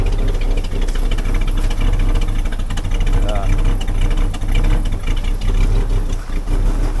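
A car engine idles steadily while warming up, its muffler rattling, forming a continuous close, loud rumble with some talking over it.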